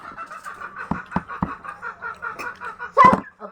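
A chicken clucks close by in a steady run of short, repeated clucks, ending in a louder squawk, with a few sharp knocks in the background.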